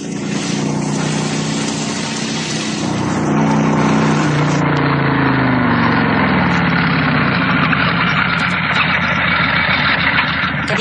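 A motorbike engine idles close by, a steady loud rumble that dips in pitch partway through and then settles into an even, continuous drone.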